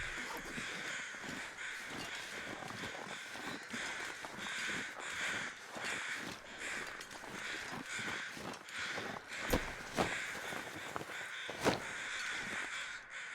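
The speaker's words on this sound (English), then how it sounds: "That is the crows flying above the corpses." Crows cawing above corpses in The Long Dark, harsh repeated caws from several birds overlapping in a steady stream, fairly close and loud, with a few sharper calls near the end and no talking.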